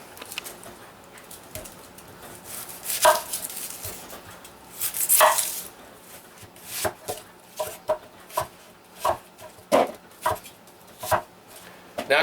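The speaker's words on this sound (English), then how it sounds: "Now I cut my onions into pretty much bite-sized pieces" Onions being chopped into bite-sized pieces with a knife on a cutting board, a series of sharp close thuds, sparse at first and then settling into a steady rhythm.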